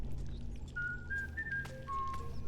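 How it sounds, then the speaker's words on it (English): Short whistle in the video game Donkey Kong Bananza, a faint series of rising and falling whistled notes over a low steady game background hum. "I heard the whistle."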